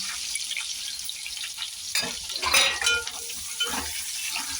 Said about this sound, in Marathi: मी इथं दोन कांदे घेते दुबी चिरून हे पण टाकूया यांना पण आपण परतून घेऊया